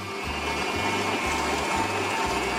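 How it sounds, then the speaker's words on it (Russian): An electric mixer with a whisk attachment whirs steadily as it lightly beats ingredients for a dessert, a continuous close motor drone pulsing in regular cycles with no talking. "С помощью насадки венчик слегка их взбиваем"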